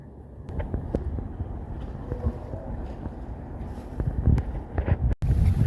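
Steady wind noise buffets the microphone while a sailing canoe moves along the Catwater on a tidal river, with faint water sounds underneath and occasional gusts.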